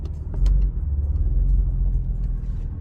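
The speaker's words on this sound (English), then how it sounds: "the cold start to be that loud" A BMW F82 M4 engine runs just after a cold start, a loud, steady deep rumble that stays close and constant for the whole stretch with no voices over it.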